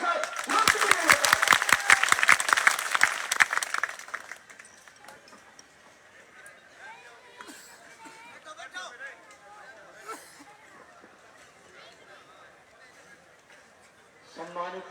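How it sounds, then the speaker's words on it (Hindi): Crowd at a political campaign welcome for a BJP candidate breaking into loud, brisk clapping for about four seconds, then dying away into murmuring chatter and scattered voices. "संजीव बेनीवाल, जोरदार तालियों के साथ लोकप्रिय नेता।"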